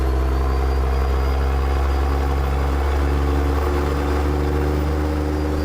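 A Peterbilt 379 truck engine idles in American Truck Simulator, a loud, steady, low rumbling drone with constant even tone, close and alone with no talk.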